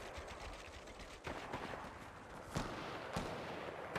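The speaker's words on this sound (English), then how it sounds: "So many sniper shots going off right now." Sniper rifle shots in the video game Sniper Shootout V3 crack repeatedly over a dense, steady bed of distant gunfire, with a few sharper nearer reports standing out.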